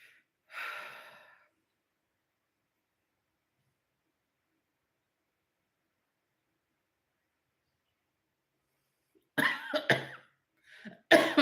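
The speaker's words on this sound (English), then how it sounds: "Why am I coughing?" A short breathy cough, then a long silence, followed by a burst of several harsh coughs close to the microphone.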